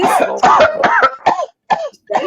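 A run of harsh coughs from one person, close and loud, in several bursts separated by brief pauses.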